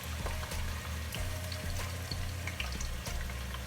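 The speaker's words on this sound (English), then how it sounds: "Yes, you want that sizzle sound" A soft, steady sizzle of onions frying in hot oil, with faint crackles and pops over a low background hum.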